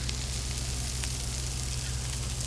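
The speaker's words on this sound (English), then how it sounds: "So this is sizzling good." Steady, dense sizzling of food frying in a hot pan over medium-high heat, continuous and fairly loud, with a low electrical hum underneath.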